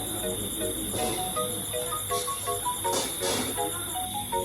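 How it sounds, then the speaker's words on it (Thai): Crickets chirp steadily in a forest in Sukhothai, Thailand, a high shrill pulsing drone, with a few brief melodic tones and faint talk mixed in. "มีเสียงจิ้งหรีดร้องนะคะ"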